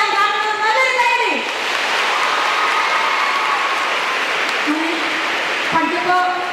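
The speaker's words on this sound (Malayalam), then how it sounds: "നല്ലൊരു കൈയടി." An audience claps for a NEET exam topper in a hall, a steady burst of applause that runs loud across the middle while a voice talks over its start and end.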